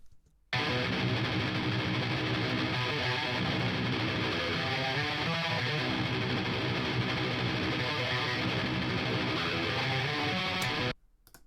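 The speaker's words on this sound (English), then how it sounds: "the sound of a highly modified Telecaster with bare knuckle Black Hawk pickups" A heavily distorted, highly modified Telecaster electric guitar with Bare Knuckle Black Hawk pickups plays a dense, chugging riff, loud and continuous, starting abruptly and cutting off at the end.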